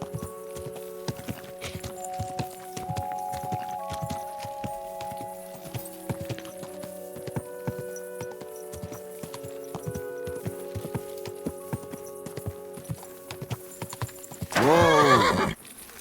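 Horse hooves clip-clop steadily and rhythmically in Kingdom Come Deliverance 2, with a sustained musical tone underneath, and a loud, close neigh near the end.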